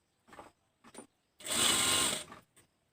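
A sewing machine stitches blouse fabric in two brief bursts followed by one longer whirring run of about a second, close and clear with quiet gaps between.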